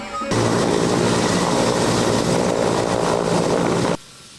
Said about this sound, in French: Un hélicoptère Mi-171 de l'armée de l'air se pose à Djema dans la région de Nioro du Sahel.